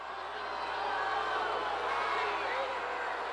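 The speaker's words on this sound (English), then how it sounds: "Sanders tries to quiet the crowd to no avail" Hundreds of convention delegates keep booing and refuse to quiet down, a continuous loud crowd roar filling the whole moment with no break.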